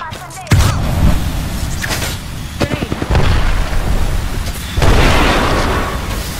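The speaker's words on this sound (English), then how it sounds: "Grenade." A grenade blast in the shooter game Apex Legends, a sharp broadband burst followed by rumbling booms and a second hit a few seconds later, loud and close over game noise.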